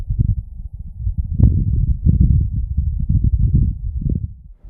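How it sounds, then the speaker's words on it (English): Low, muffled buffeting rumble of wind gusts on Mars, steady and deep with swells and dips, no voices, fading out at the end. "This is the sound of wind on Mars."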